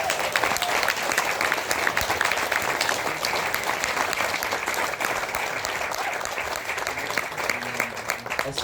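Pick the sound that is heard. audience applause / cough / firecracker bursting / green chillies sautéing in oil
audience applause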